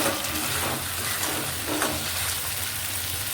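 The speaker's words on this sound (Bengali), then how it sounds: "এবার ভালো করে মশলাগুলোকে কষিয়ে নেব।" Spices with turmeric and salt sautéing in a pan for rui fish curry make a steady close sizzle, with soft stirring scrapes running through it.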